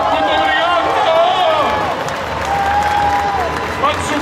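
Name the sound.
audience applause at Anime Friends concert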